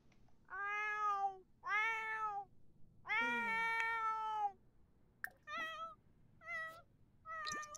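Cats in The Sims 4 meow repeatedly, a series of clear, close, high calls separated by short pauses.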